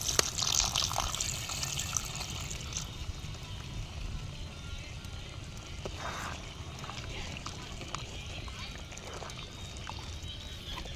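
Milk is poured into a simmering Kerala-style chicken curry, a soft continuous liquid splashing and bubbling that fades slightly after the first few seconds, with a voice speaking faintly in the background.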